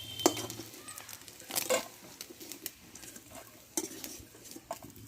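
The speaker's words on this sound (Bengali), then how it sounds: "চিংড়ি মাছটা আমি ভালোভাবে ভেজে নিয়েছি আমি তুলে নেবো তেল থেকে" Shrimp fried in oil being lifted out of the pan: soft sizzling under scattered clinks and scrapes of a utensil against the pan, with a few louder knocks.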